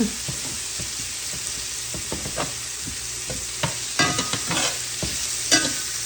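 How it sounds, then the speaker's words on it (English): Onions sautéing in a skillet for a coconut fish dish, a soft continuous sizzle broken by scattered scrapes and stirring clatters of a utensil against the pan, close by. "You want the onions to get soft and a little caramelized."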